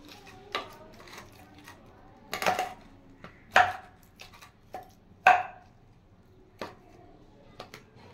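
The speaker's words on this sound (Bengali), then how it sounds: "কাঁচা কলা আর আলু ভালো করে মেখে নিয়েছি" Boiled raw banana and potato are mashed together by hand, giving irregular close squelching knocks and taps. A few louder, sharper hits stand out among softer ones, with no talk.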